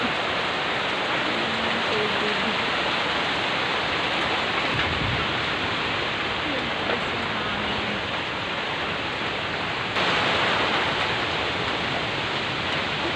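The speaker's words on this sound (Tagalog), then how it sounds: "Tama na hangin at ulan at" Heavy rain roars steadily as dense, constant hiss, with gusty wind adding a rushing quality throughout.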